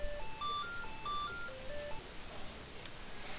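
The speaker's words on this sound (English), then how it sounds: "And a phone is ringing!" A phone rings in a room where someone is playing the Pokemon Liquid Crystal game, giving a run of short electronic beeping tones over steady background hiss before the pattern fades.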